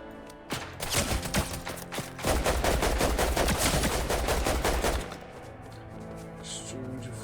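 Rapid bursts of automatic gunfire trading back and forth in a video game firefight, dense overlapping shots for several seconds, then fading to quieter background sound.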